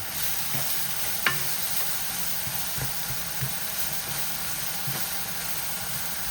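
Ingredients stir-fried in a wok for beef shank braised in white wine give a steady, close sizzle, punctuated by a few sharp spatula knocks and scrapes against the metal.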